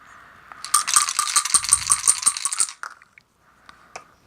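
Dice rattle and clatter for about two seconds during a round of the APBA golf board game, a busy run of sharp clicks that stops suddenly, followed by a few faint taps.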